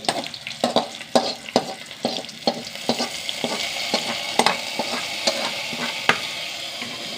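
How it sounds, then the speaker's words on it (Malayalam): Onions fry and brown in a pan with a steady close sizzle, while a spoon scrapes and stirs in rhythmic strokes roughly every half second, loud and free of speech. "ഉള്ളി നന്നായി മൂത്ത് കിട്ടാം."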